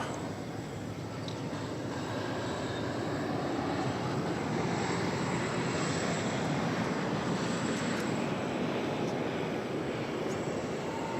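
An American Airlines Boeing 787 Dreamliner arrives at DFW Airport after a long-haul flight from Santiago, its engines making a steady, broad roar at a moderate distance with no voices.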